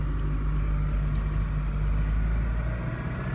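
A 2018 Toyota Hilux E with a 2.4L engine and manual transmission idles high in power mode, giving a steady, close, low droning hum with a constant engine tone and no speech.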